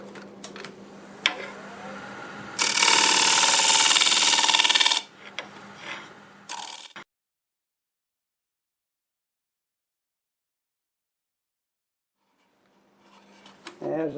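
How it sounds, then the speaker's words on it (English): A negative rake scraper cuts fresh-cut English walnut spinning on a wood lathe, giving a loud, rough scraping burst of about two seconds over steady motor hum. Near-silence follows, then faint talking returns at the end. "I'm going to use my negative rake scraper try to clean it up"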